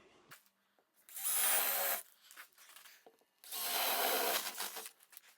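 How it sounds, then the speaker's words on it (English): A power drill bores into the edge of a wooden door in two sustained bursts, each about a second long, with quiet pauses and faint handling noises between them. "So I like to drill in the sides first, so I drill either way there"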